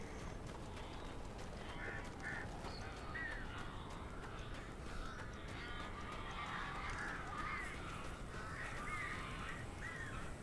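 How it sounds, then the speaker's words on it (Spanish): Crows caw in Alan Wake, a few harsh calls repeating at moderate distance over a dense, rumbling game ambience. "Cuervos."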